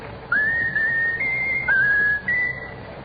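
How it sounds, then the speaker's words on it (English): An animal whistles a short tune on command, giving clear, sustained pure-tone notes in a stepped melody of several phrases, loud and close with no talking over it. "Whistle your favorite tune."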